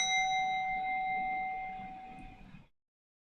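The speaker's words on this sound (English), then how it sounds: "Bell has been rung." Stock market opening bell rings with a sustained metallic tone that slowly fades over about two and a half seconds, then cuts off into silence.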